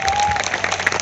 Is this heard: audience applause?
yes